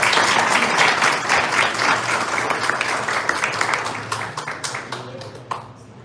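Sustained applause from a gathered audience at a Goiânia literary academy ceremony, honoring former mayor Pedro Wilson; dense steady clapping that gradually thins and fades toward the end, heard alone without talk.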